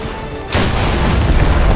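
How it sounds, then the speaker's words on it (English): A sudden deep boom from an explosion in the war video game Total Conflict: Resistance, hitting hard and loud, then rolling into a sustained rumbling blast with no talking. "Something blew up in front of me."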